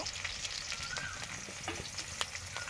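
Potatoes sizzle and fry in a pan in a home kitchen, a steady close crackle with light stirring scrapes and no talk.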